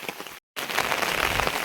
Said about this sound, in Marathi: आज मोठ्या प्रमाणात पाऊस झालेला आहे, ते त्याचं दृश्य आपण बघणार आहोत। तर चला पाहूया पावसाचं दृश्य।